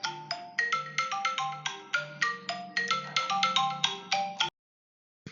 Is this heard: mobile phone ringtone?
yes